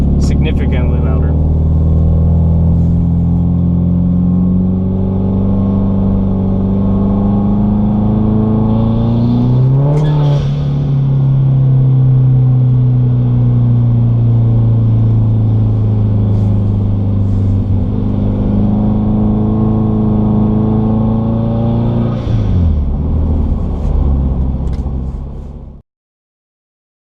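A car fitted with a CNT exhaust and no silencer revs and accelerates loudly and close for the whole stretch, its engine note climbing in long pulls with a sharp rise near the middle and another near the end.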